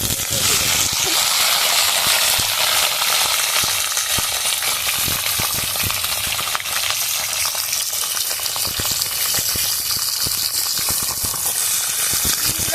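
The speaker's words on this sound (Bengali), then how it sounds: "তেলের সাথে একটু ভাজা ভাজা করে নেব।" Spice paste of mustard seed, green chilli and ginger frying in mustard oil, with a loud, continuous close sizzle and crackle and occasional stirring clicks throughout.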